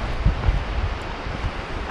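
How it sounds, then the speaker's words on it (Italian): The Slizza torrent rushes through the gorge below with a steady, broadband roar and a low rumble. The water is continuous and somewhat distant, with no voices. "Sentiamo il rumore dell'acqua che è abbastanza qui sotto"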